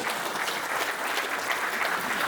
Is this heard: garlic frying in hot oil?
no